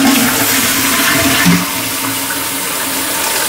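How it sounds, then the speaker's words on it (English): Toilet half flush with a Geberit inlet valve: a loud, close rush of water that drops after a moment to a steadier hiss of the cistern refilling. "that it's a very quick and economical flush, which uses approximately half of the water in the tank."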